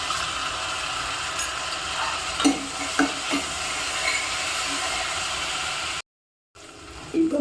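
Spices, curry leaves and turmeric powder sizzle steadily in a pan for a green turkey berry tamarind curry, with a constant fry hiss, a few stirring scrapes and clinks, and a brief cut near the end.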